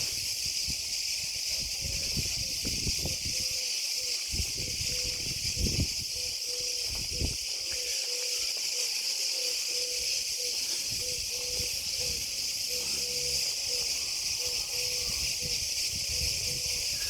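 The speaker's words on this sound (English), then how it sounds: "The sound of the cicadas chirping away" A steady, high-pitched buzzing drone of cicadas in a Cretan village in daytime heat fills the air, constant and loud, with faint rustling and a soft tone underneath.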